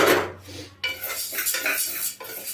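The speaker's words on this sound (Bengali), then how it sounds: "আমি একটু হালকা নেড়ে নেব, হালকা জাস্ট নাড়তে থাকি" Arhar dal being lightly stirred in a pan, heard as close metallic scrapes and clinks of a spoon against the pan in short irregular strokes.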